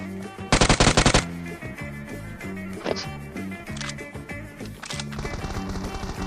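Automatic gunfire in PUBG Mobile, a fast burst of rapid shots early on followed by a few scattered single shots over game ambience and background music.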